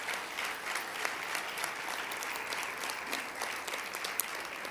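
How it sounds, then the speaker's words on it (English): Sustained audience applause fills a conference session hall of the American Legion Auxiliary, a steady, dense clapping from a large crowd that holds evenly throughout without voices. "How about another round of applause for all of our presenters so far?"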